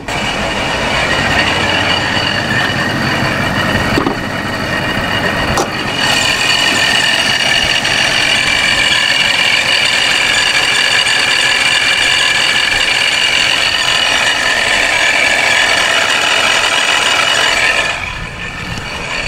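A car engine idles steadily with its hood open, carrying a rough, odd-sounding mechanical noise. The loud, dense drone runs continuously throughout, and no one speaks.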